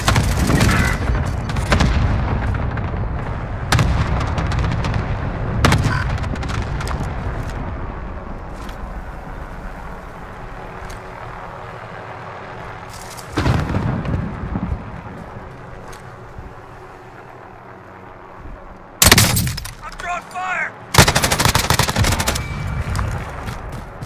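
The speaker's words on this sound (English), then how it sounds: "Getting sniped at." Gunfire in a multiplayer video game firefight, with sharp shots and bursts scattered across the clip, several loud blasts near the end over a steady windy background rumble.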